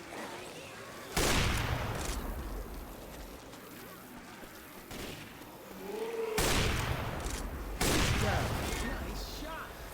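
Gunfire in Left 4 Dead 2 crackles in several loud bursts over a background of rain and combat ambience, with voices occasionally heard between shots.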